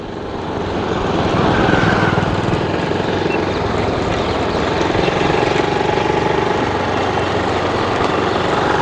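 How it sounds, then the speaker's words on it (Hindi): A motorcycle engine drones steadily while riding, a loud continuous hum mixed with wind rush that builds in the first second and holds without a break. "मज़ा आ गया बाइक चला के काफ़ी दिनों बाद"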